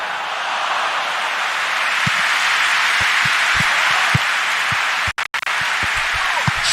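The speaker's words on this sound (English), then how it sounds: "We have a hugely expectant crowd here." Stadium crowd in the football video game PES 20 before a UEFA Europa League match, a broad constant roar of cheering and applause with a few scattered thumps underneath.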